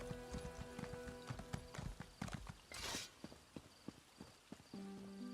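Horse hooves clip-clop at a walking pace in the game ESO High Isle, rhythmic close steps with a short whoosh partway through and a faint tonal chime near the end, no talking.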